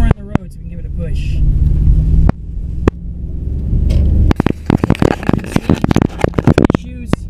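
A 2004 Range Rover accelerates on a road, its engine rumbling low and steady under scattered clicks and knocks, with some talk inside the cabin.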